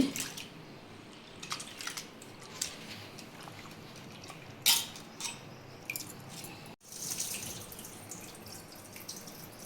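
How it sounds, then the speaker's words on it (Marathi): Water sloshes and drips in a bowl as urad dal is rinsed by hand, with soft splashes and a few louder clatters, no talking. "त्याला पावडर असल्यामुळं 2-3 पाण्याने डाळ धुवावी लागते"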